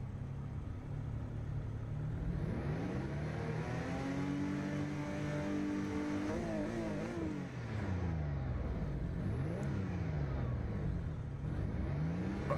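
A racing car engine in the game Assetto Corsa EVO holds a high, droning rev at low throttle, with the pitch sweeping up and down steadily throughout and no talk.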